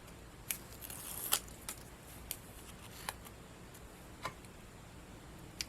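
Scissors snipping double-sided foam tape, a few quiet, sharp isolated clicks and snips spaced apart over faint background hiss.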